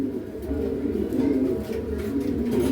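Pigeons, including blue pearl birds kept by a seller, cooing continuously with low, rolling, overlapping calls close by.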